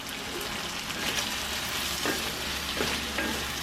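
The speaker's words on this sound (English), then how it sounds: "We are making prawns sauteed in garlic and whatever else, butter" Prawns sauté in garlic butter in a pan in an outdoor kitchen, a steady close sizzle with occasional stirring scrapes and a low background hum, no talk.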